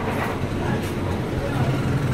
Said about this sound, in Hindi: मेरी शॉप थोड़ा रोड पे है, तो इस वजह से गाड़ियों का शोर बहुत आता है